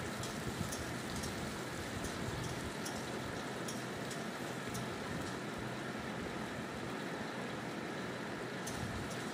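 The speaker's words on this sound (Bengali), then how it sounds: "কিছুক্ষণ ভেজে নেব নেড়ে চেড়ে।" Vegetables for khichuri fry in hot oil and are stirred now and then. A steady close hiss of sizzling carries faint crackles and occasional light taps throughout, with no speech.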